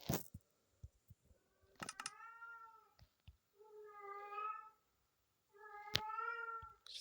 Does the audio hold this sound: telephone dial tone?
no